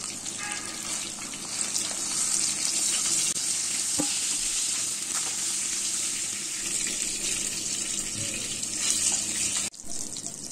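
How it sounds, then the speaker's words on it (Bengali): Hilsa fish frying lightly in a shallow layer of oil, a continuous crackling sizzle heard up close and fairly steady, with occasional clinks and shifts in the pan and no talking. "হালকা ভেজে আমি তুলে নিচ্ছি।"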